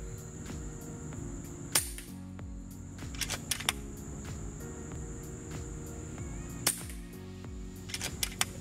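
Shotgun slugs fired at a target, a few sharp, isolated bangs spaced several seconds apart over a steady background hum.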